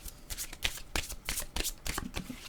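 A deck of cards is shuffled close by, a quick series of crisp riffling bursts over a couple of seconds at low volume.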